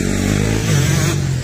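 A motocross motorcycle engine drones loudly and steadily on a motocross track, its pitch rising slightly as it revs partway through.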